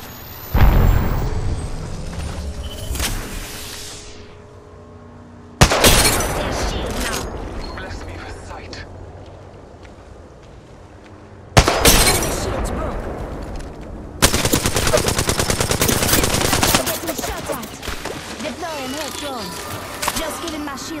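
Gunfire in Apex Legends: bursts of automatic weapon fire and sharp shots in separate loud volleys, with echoing tails and mechanical clatter between them, alongside game voice lines.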